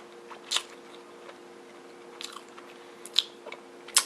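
A Burger King breakfast ciabatta club sandwich with egg, ham and tomato is bitten and chewed up close, with soft crunchy bites and wet chewing spaced out over quiet steady background hum.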